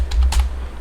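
Quick, close keystrokes on a computer keyboard, a few distinct taps in under a second while entering Python code, with no talking.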